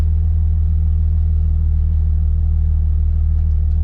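An off-road vehicle driving on the flats, heard as a loud, steady, close engine rumble with no pauses or clear changes in revs.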